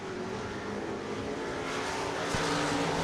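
Stock cars racing at Stuart Speedway during a heat race, a steady engine drone that swells slightly toward the end with a brief sharp transient, heard at moderate distance.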